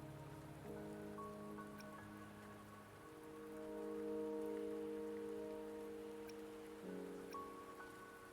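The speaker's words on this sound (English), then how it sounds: "Don't worry, the rain won't last much longer." Rain falling in the video game Wuthering Waves, a soft steady wash of drops heard quietly beneath sustained tonal music, with no talking.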